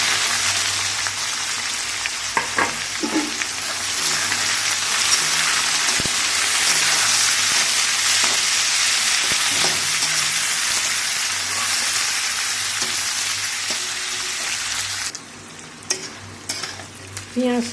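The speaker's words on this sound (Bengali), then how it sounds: "তো পেঁয়াজ কাটা দিয়ে দিচ্ছি" Chopped onions with dried red chillies sizzling and frying steadily in hot oil in a home kitchen pan, a loud continuous crackle with occasional stirring clinks, quietening near the end.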